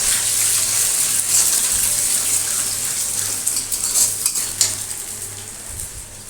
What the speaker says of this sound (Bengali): এবার ডিমটাকে ঝুরঝুর করে ভেজে নেব।